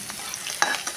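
Green chillies and curry leaves crackle in hot oil as a tempering for jowar flour upma, a short close sizzle with a few sharp pops and the scrape of a stirring spoon.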